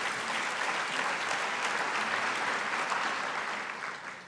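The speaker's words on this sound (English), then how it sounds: "let's take a moment to give a big round of applause to all of our working groups" Conference audience applauding at a mainstage session, a dense, steady wash of many hands clapping that holds evenly throughout and begins to taper off near the end.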